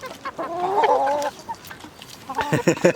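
Nearby hens cluck and croon in short, throaty bursts, a drawn-out call at first and then a quick series of clucks.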